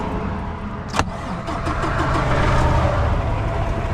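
A newer truck's diesel engine cranks and catches with a sharp click at the start, then settles into a steady, fairly loud idle rumble heard close up, with no talking.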